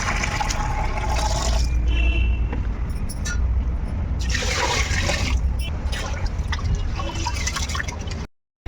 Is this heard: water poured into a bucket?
yes